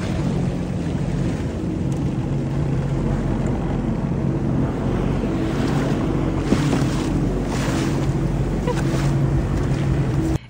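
Ocean waves break and wash along a beach in Florida, a loud, steady roar of surf with gusty wind noise buffeting the microphone throughout.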